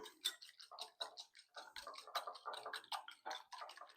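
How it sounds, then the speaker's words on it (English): Eggs are whisked in a bowl for a brand-new brunch of scrambled eggs, a quiet, rapid series of light ticking and clicking strokes close by, with no talking. "Just whisk that up a little bit."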